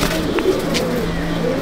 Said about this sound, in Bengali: প্রচণ্ড দুরন্ত পায়রা।